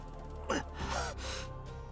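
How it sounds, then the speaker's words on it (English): A character's sharp gasp in the Fate/Stay Night visual novel, a single close breathy intake followed by a softer sighing exhale over a low musical background. "I let out a gasp."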